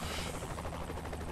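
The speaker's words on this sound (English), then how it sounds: "I'm gonna RC your helicopter." A helicopter in the video game Saints Row: The Third makes a continuous, fairly faint rotor chop with a throbbing pulse throughout, heard on its own.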